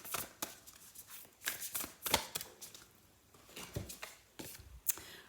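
Oracle cards are shuffled close by in repeated soft riffling bursts and taps, irregular and fairly quiet, with no talking.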